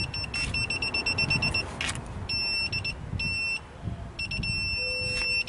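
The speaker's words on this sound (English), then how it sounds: "So it's completely beeping." A 2004 Toyota Echo's rear parking sensor gives high, rapid beeps in bursts, sometimes running into a continuous tone, over low engine hum.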